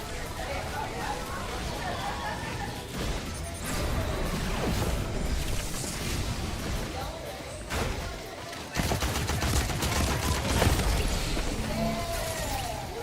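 Rapid bursts of SMG gunfire in a competitive esports shooter match, dense and continuous alongside other weapon fire and game effects, with commentators talking over the action throughout.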